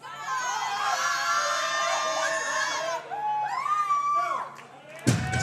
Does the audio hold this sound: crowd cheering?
yes